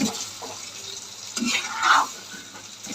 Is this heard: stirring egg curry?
yes